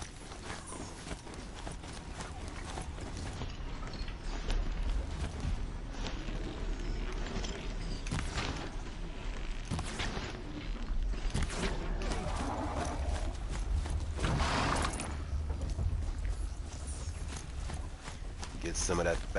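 A robotic horse-like machine mount clip-clops along in the video game Horizon Zero Dawn, its steady hoofbeats running under continuous game music and ambience, with a person talking over it.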